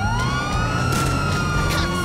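A police siren in a video game wails continuously and loudly, its pitch sweeping slowly over a steady engine and traffic drone, with faint bursts of noise flickering through.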